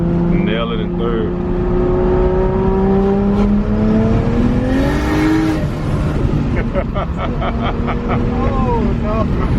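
A 700+ hp Lexus SC400 with a 1JZ swap, Borg Warner S366 turbo and E85 fuel, revs hard in third gear, its engine note climbing loudly and continuously, while people talk over it.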